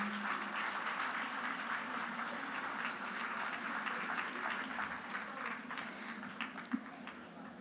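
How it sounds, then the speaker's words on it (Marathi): Schoolchildren's audience at a school gathering for third to sixth graders applauds the young singers, a steady, dense wash of clapping held at moderate volume from start to finish, with murmured voices faintly underneath. "सर्वांसाठी भरपूर टाळ्या वाजवूया."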